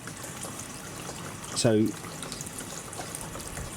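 Water running through 30 metres of 12.5mm garden hose into a tank, a steady trickling flow heard throughout, with a brief spoken word in the middle.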